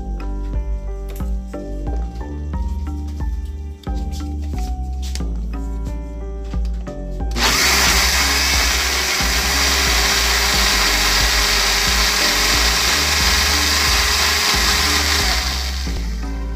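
A blender whirs loudly and steadily for the second half, blending pumpkin puree with whole milk for a pumpkin atol, after a quieter stretch of soft kitchen noise over background music.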